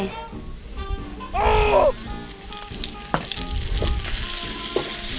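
Minced pork hits hot oil with fried garlic in a pan for bean sprouts and tofu, giving a loud burst of sizzling, then steady frying with scrapes and stirring clanks while someone talks over it.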